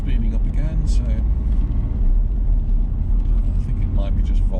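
Steady road traffic in the rain drones close by, car engines and tire noise blending into a continuous low rumble with a voice talking over it.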